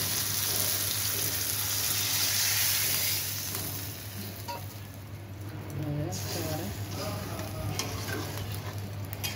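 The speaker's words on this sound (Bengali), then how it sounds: "গ্রেভির জন্য জল দিয়ে দেবো।" Water poured into a sizzling egg and potato curry for gravy, giving a loud hiss that settles into steady bubbling and frying with a low hum beneath.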